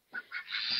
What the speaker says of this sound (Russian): Вот тут вот у нас живут теперь утки и взрослые курицы.